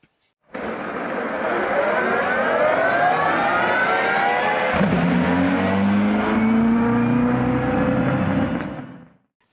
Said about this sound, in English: Have you seen that like Toyota hybrid thing, like leaving the pits?